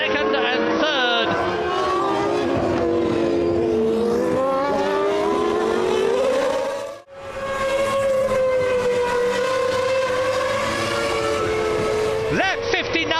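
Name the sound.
Formula One cars racing, 1999 French Grand Prix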